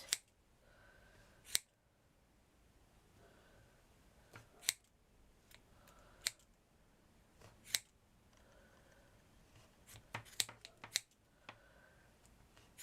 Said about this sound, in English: we're going to trim them bits off and just cut all your loops